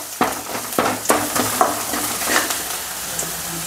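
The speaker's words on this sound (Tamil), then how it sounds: "எண்ணெய் ஊற்றிட்டு பூண்டு சேர்த்து வெங்காயம் வதக்க ஆரம்பிச்சிடலாம்" Garlic and mustard seeds frying and crackling in hot oil, with a steady sizzle broken by sharp spattering pops and a few stirring scrapes in the pan, close and fairly loud, no talking.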